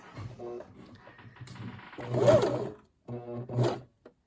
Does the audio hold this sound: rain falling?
no